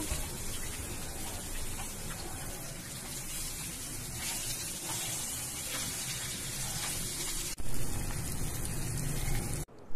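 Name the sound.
karli fish frying in a pan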